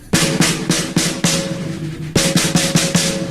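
A five-stroke roll played slowly on a drum, right-right-left-left-right, its sharp strikes evenly spaced in two clear groups with ringing tone between, close and alone.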